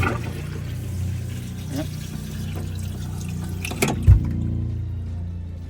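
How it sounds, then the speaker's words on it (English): Water runs in an RV's sink and toilet, a steady low rushing pour with a brief louder splash near the end, under a short spoken word, in a Winnebago Rialta 22QD motorhome. "Your sink, and let's try the toilet."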